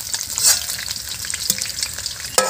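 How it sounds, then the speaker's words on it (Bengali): Potatoes fry in a pan for khichuri, a steady sizzle broken by a few scraping stirs and clinks of a utensil, close and fairly loud. "আমাদের আলু ভাজা হয়ে গেছে"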